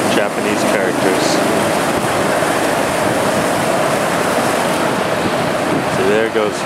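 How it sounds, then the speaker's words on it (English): Water jets spraying up from a water clock fountain in Kanazawa, a steady rushing hiss that runs without a break throughout, with faint voices in the background. "All it is just water being popped up or sprayed up."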